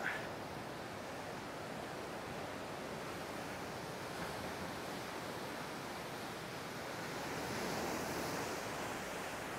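Ocean waves washing ashore at Vila Franca do Campo in the Azores, a continuous broad surf roar with some wind noise, steady and moderately loud with no talking.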